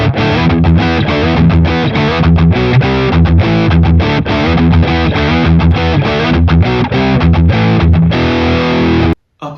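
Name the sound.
electric guitar through distortion pedal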